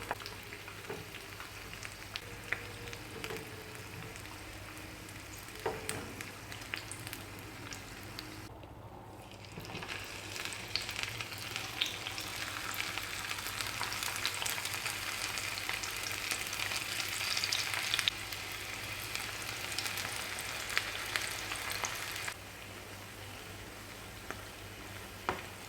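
Banana flower florets crackle and sizzle steadily as they deep-fry in hot oil, a dense, continuous hiss close by that swells and fades slightly as the pieces are stirred.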